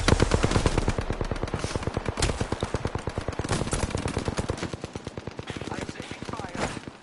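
Rapid automatic gunfire in the shooter game Apex Legends rattles in long, evenly spaced bursts, loud and close, with a few heavier shots standing out and brief voice sounds mixed in.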